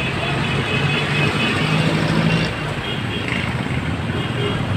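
Dense traffic at a road intersection with no traffic enforcer, cars, trucks and buses rumbling past in a steady close wash of engine noise, with people talking over it.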